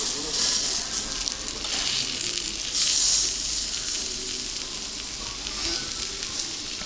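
Garlic hitting a hot pan, giving a steady broadband sizzle that flares louder for a moment partway through, then settles into a continuous frying hiss with faint background voices.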